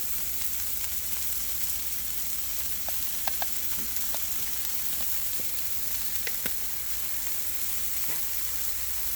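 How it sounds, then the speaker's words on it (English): Butter and beef filets sizzle steadily on a flat-top Blackstone griddle, a continuous broadband frying hiss with a few faint clicks and taps of a utensil, no talking. "We'll let this just saute up here a little bit."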